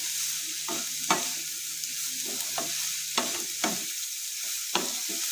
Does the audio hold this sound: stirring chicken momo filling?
yes